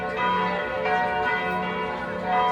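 Church bells of St. Lawrence Church in Nuremberg, several bells ringing together in a dense, sustained, overlapping peal, loud and continuous with no talking.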